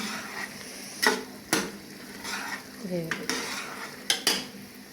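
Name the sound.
roasting chickpea masala in oil and ghee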